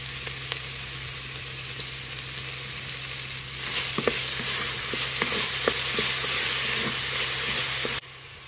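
Ginger garlic paste hits hot oil with onions for mutton curry, giving a steady sizzling fry that swells louder and brighter midway, with a few scrape and stir clicks, then drops off sharply at the end.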